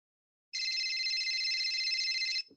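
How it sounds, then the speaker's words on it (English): A telephone bell rings in one steady continuous burst of about two seconds, clear and alone against silence. "The phone's ringing."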